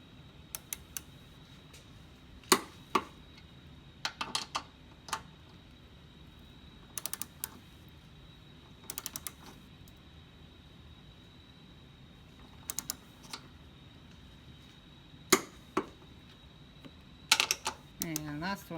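Torque wrench clicking as strut bolts on a Kia Sedona front strut are tightened in a cross pattern, giving sharp, bright clicks that come in scattered bursts over a steady low background.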